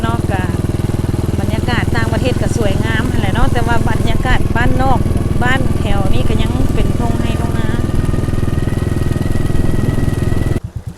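A motorcycle rides through rice fields, its engine making a steady, close droning rumble throughout while a person talks over it.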